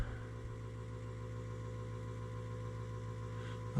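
The engine of a 2016 Arctic Cat Wildcat Trail 700 sport side-by-side idles steadily close by, a low continuous rumble with an even, unbroken drone.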